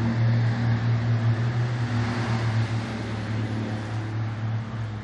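A loud truck passes close by, a heavy low engine drone with steady humming tones that is strongest at the start and eases slightly as it moves on, with no talking.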